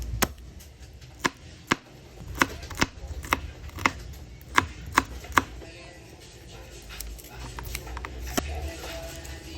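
Sharp knife chops land on a board in an uneven series, about a dozen crisp strikes, with quiet background kitchen noise between them, while preparing ingredients for chicken teriyaki.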